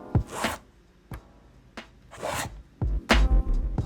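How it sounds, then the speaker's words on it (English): A skateboard shoe drags up the grip tape in repeated rough, raspy scrapes, several short sliding strokes with thumps of the board in between, close and fairly loud. "drag your foot up the grip tape into that pocket"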